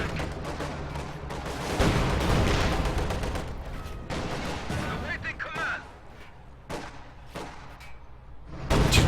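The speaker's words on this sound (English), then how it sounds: "he's actually trying to destroy that with the IS-2's cannon." Cannon fire from an IS-2 heavy tank in Company of Heroes 2 during a 1v1 match: repeated heavy booms and gunfire bursts over a dense battle din, with a commentator talking throughout.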